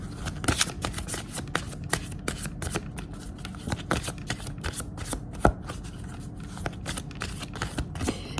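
Oracle cards being shuffled by hand during a tarot-style love reading: a steady run of quick papery riffles and flicks, close and fairly loud, repeating for several seconds with no talking.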